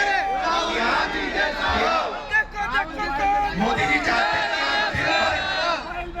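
A large political rally crowd shouts back together in loud, sustained roars and chants, with overlapping voices swelling and dipping briefly before surging again close by.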